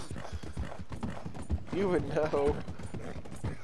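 Horse hooves clip-clop in Red Dead Redemption 2, a rhythmic, fairly soft series of hoof taps under a voice talking over the game.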